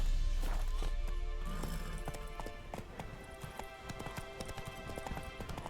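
Roach the horse gallops in The Witcher 3, a steady clip-clop of hooves running close by, with sharp hoof strikes over a continuous game backdrop.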